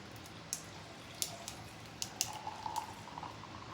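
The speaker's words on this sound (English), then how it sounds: "I'm pouring hot liquid over ice" Hot tea is poured over ice in a jar, with scattered cracking pops and clinks as the ice reacts, plus soft trickling liquid, close and fairly quiet.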